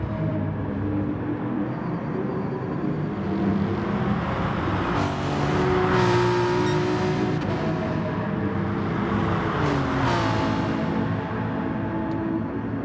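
Race cars lapping the Kyoto circuit in a sim racing endurance game, engines droning loudly and continuously, with rising revs and cars whooshing past in the middle.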